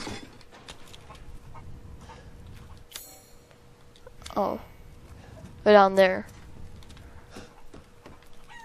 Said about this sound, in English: Where are the chickens out here?